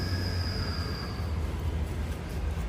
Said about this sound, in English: I thought they were a train. I think it's a big mad truck.